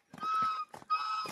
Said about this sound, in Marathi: हे बदक आहे रे.